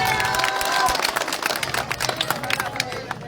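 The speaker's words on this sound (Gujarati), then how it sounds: "બાલાભાઈને એકવાર ફરી જોરદાર તાળીઓથી બાલાભાઈને વધાવીએ." A crowd at an AAP election rally in Thangadh, Gujarat, claps loudly in a dense burst to welcome a local leader, then thins to scattered claps while voices murmur under it.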